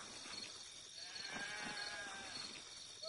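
Sheep named Dolly bleating in the video game Black & White 2, a few wavering bleats over a steady game backdrop, moderately close and not loud, with no talk.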